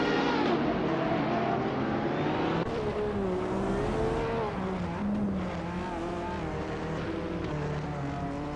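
Racing video game cars, including a 2012 Zenvos T1, roar around a track with a steady, loud engine drone whose pitch rises and falls through gear changes, continuous for the whole stretch with no talking.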